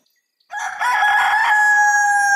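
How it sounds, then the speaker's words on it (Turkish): A single rooster crows one long, loud cock-a-doodle-doo up close, rising after a brief silence and holding steady to the end, with no one talking. "Kukariku horoz çalar"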